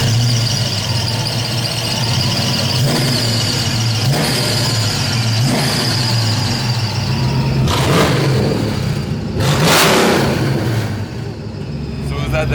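A Japanese-inspired Foxbody Mustang with a stock T5 transmission roars loudly and continuously through a burnout, engine revving hard with tire squeal layered over a deep rumble, swelling near the end.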